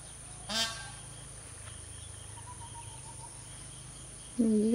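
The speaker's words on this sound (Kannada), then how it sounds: "ಅದು ಸೌಂಡ್ ನವಿಲು ಕೂಗಿದ್ದು" A peacock calls outdoors in a rural setting, with one brief, loud, nasal honking cry near the start and another at the end, over a faint steady insect drone and soft background birdsong.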